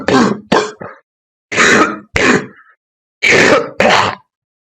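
A series of harsh coughs and throat clearings in short bursts, some in quick pairs, loud and close with brief silences between them.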